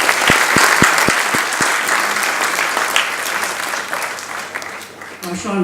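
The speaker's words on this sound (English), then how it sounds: "These are the people that deserve applause." Audience applause at a public lecture, a dense crowd clapping steadily and loudly throughout, with a few sharp individual claps near the start and brief voices at the end.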